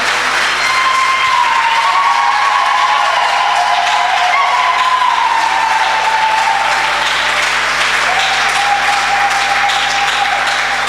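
A church congregation claps and cheers in steady, sustained applause during worship, with faint sung or shouted voices weaving through the continuous crowd noise.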